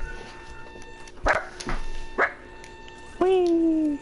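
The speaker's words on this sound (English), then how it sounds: "That's my dog. Be quiet." A pet dog named Sugar barks a few times in short separate bursts, then lets out a longer whining bark, close by over the steady sound of Call of Duty: Black Ops III gameplay.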